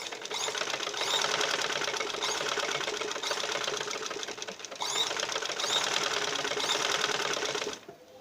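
Sewing machine stitching a shalwar seam right along the fabric edge, a steady close whir running continuously with a brief pause midway, then stopping at the end.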